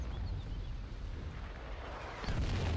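Artillery fire in the war game Foxhole: a dull, distant rumbling din that swells into a heavier, louder boom near the end, with no voices.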